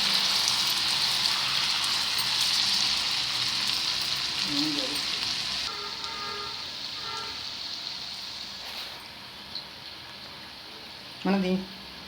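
Oil heating and frying in a kadai-style pan for crispy lentil snacks, a steady close sizzle that fades gradually, with a few faint clinks of utensils.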